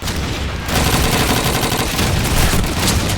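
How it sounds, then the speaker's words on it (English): Dense, continuous gunfire with overlapping bursts and booms from a competitive shooter match, a Thompson submachine gun and a .44 revolver among the weapons, loud and sustained throughout with no talk. "Nova trying to get in there greasy with the Tommy, but just not going to be enough as the 44 starts clanging off for Ethan."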